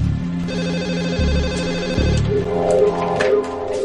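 A telephone rings repeatedly with a steady electronic ringtone pattern, loud and close, during a forensic crime documentary scene, with no talking over it.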